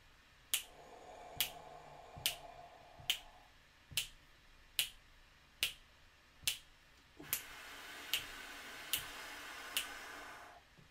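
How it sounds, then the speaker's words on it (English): Crisp finger snaps repeat at an even, steady tempo, about a dozen in all, close and clear with a faint hum behind them. "you like snapping your fingers or tapping your feet"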